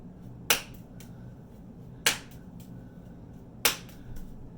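Three sharp, isolated hand claps spaced about one and a half seconds apart during hoop juggling toss practice, each standing alone against a quiet room background.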